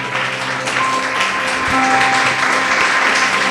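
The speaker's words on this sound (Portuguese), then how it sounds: "Louve ao Senhor com suas palmas." A church congregation claps their hands in praise, a moderate, continuous patter of clapping over a sustained musical drone in the hall.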